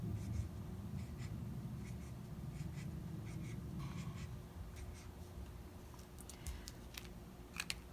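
Pen tip scratching across paper while drawing tree leaves, a run of close, quiet strokes and short scribbles in an uneven rhythm, with several quick sharp ticks near the end.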